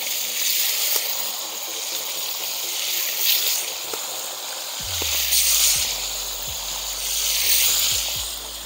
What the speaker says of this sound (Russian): Масло раскалилось, выкладываем обжаривать крылья.